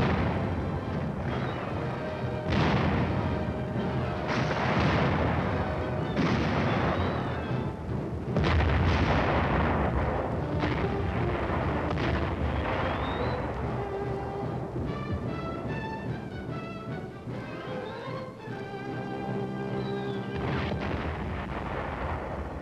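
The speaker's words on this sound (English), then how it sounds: "A tank adds its lethal punch." A tank gun fires during Korean War combat in 1951, with several heavy booms and blasts rolling over rumbling battlefield noise in an old, grainy newsreel recording.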